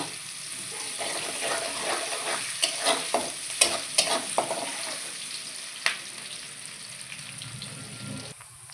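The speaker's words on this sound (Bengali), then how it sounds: "পেঁয়াজটা একটু ভেজে নেব।" Onion sizzling in a pan of oil, stirred with several sharp scrapes and knocks of a spoon against the pan over a continuous, moderately loud frying hiss.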